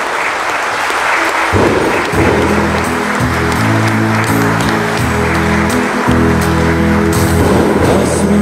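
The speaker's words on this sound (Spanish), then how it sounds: "Aplauso a nuestro seráfico padre." Congregation at a Sunday Catholic Mass on the feast of Saint Francis of Assisi breaking into sustained clapping, loud and dense, with music playing along.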